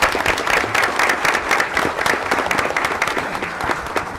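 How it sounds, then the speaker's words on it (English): Steady applause from a crowd, dense clapping sustained throughout at a fairly loud level. "Let's give them a round of applause"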